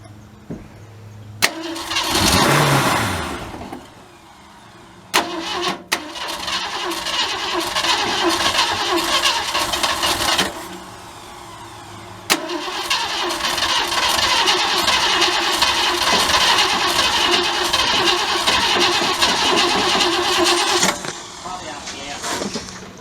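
A 1967 Ford Galaxie 500 engine cranks and fires for the first time in 25 years, starting with a loud rough burst, then settling into a sustained running roar with a brief dip and restart; people talk nearby.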